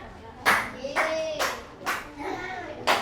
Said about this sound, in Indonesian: Bagus, tepuk tangan untuk Genta.